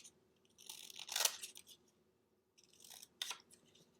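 Scissors snip through paper while cutting out a small paper dove shape for a simple collage, two close bursts of crisp cutting separated by a quiet pause.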